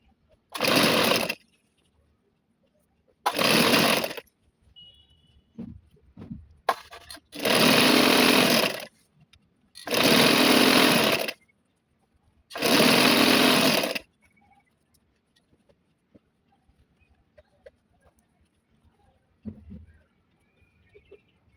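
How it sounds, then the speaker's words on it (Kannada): A sewing machine stitches dress pants in six bursts of steady whirring, each a second or two long and separated by short pauses, up close with no talking. "ನಾನು ಇನ್ನೊಂದು ಸ್ಟಿಚ್ ಹಾಕೊಂಡ್ಬಿಡ್ತಾ ಇದ್ದೀನಿ ನೋಡಿ."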